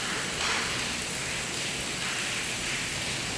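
Rain falls outside a school building as a steady, dense hiss of drops on surfaces, even and unbroken, with no voices over it.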